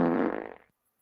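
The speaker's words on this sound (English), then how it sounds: "Donald, here's a movie fart." A movie-style fart sound effect: one buzzy, rumbling blast about two-thirds of a second long, loud at the start and quickly trailing off into silence.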